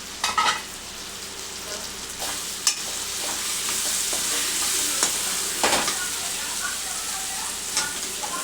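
Green chilli paste sizzling and frying steadily in a hot pan for preparing uggani, with a continuous crackle and occasional sharp clicks of a spoon stirring against the pan.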